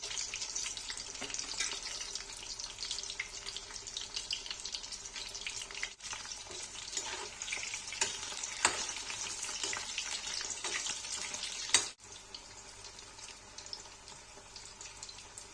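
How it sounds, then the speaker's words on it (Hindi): Chicken frying in a pan for spicy Kashmiri chilli chicken, giving a steady, loud, dense sizzle that runs throughout, with a few sharp clicks and knocks near the end and no talking. "देखिए फ्राई हो रहा है गाइस"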